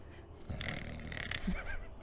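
A voice imitates loud snoring in a spoken storytelling game, a broad rasping, snorting breath that swells and rattles for about a second and a half, close and alone without words.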